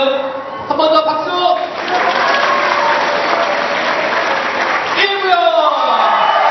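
An audience at a church choir contest claps in a dense burst of applause that holds for several seconds before tapering, with a voice speaking over the start and end.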